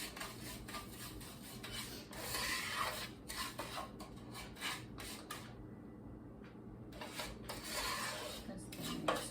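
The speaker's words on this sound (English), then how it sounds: "I'm just sprinkling some of this panko breadcrumbs on the pan" Panko breadcrumbs being toasted and stirred in a pan, giving continuous scraping and rubbing with light clinks of a utensil against the pan, close and fairly quiet.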